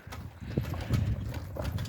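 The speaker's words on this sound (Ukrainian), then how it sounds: "Це є радянська кобила." Hooves of a Soviet-breed mare clip-clop in an uneven rhythm, moderately close, over a low background murmur.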